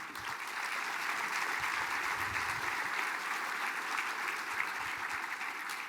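Sustained audience applause at a tribal community State of the Band program honoring a former representative, a steady dense wash of clapping from a large crowd lasting throughout at even loudness.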